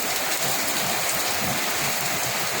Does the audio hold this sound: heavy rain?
yes